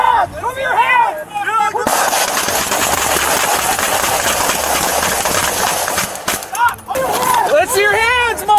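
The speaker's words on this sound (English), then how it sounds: "Shots fired! Shots fired!" Rapid bursts of gunfire crack loudly during a shootout between deputies and an armed lawnmower driver on a Minnesota morning, with shouted voices before and after the sustained volley.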